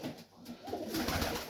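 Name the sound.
pigeons cooing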